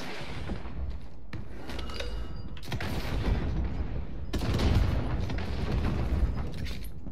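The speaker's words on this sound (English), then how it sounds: "I'm using a fucking grenade launcher." Grenade launcher explosions boom in a Warzone match, several loud blasts and bursts stacked over dense, continuous battle noise.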